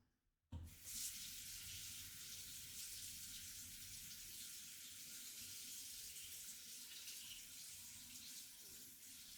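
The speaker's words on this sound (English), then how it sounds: "Wash my hands again." Running tap water pours steadily into a sink as hands are washed, a loud continuous hiss that starts abruptly after a brief quiet moment and carries on to the end.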